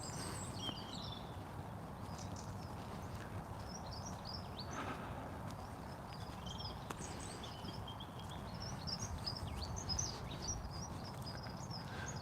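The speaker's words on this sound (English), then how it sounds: "I'm going to listen to the birds for about 20 seconds as we head up the hill" Spring birds sing outdoors at sunset on a hillside, with scattered high chirps and short song phrases rising over a steady low wind-like background rumble and a few faint footsteps, no talking.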